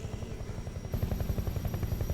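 A helicopter in Metal Gear Solid Delta: rapid, steady rotor chopping, loud and close throughout with a continuous whine above it.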